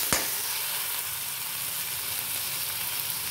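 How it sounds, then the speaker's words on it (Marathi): Minced meat dropped into a pan of sizzling onions fried until pink, a sharp thud as it lands followed by a steady, close frying hiss that continues unbroken. "आता आपण त्याच्यात खिमा टाकूया."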